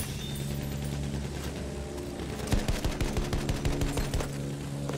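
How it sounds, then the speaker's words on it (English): Rapid machine-gun bursts ring out in a Battlefield 1 match, starting low under dense battle rumble and turning into a loud run of sharp, evenly spaced shots in the second half. "Machine gun!"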